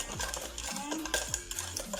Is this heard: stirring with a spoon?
yes